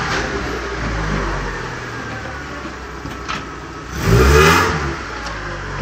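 A Chevrolet Kadett pulls away hard in a small backyard, its engine building from a steady mid-range drone into a louder, rising rev near the end, heard close up with no speech.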